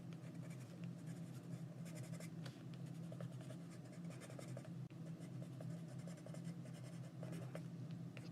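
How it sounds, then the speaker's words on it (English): A green coloured pencil scratches steadily across a small artist trading card, a continuous dry scribbling texture over a low background hum, close and faint, with no speech. "I'm just gonna use my green pencil to color this in with just a hint of color."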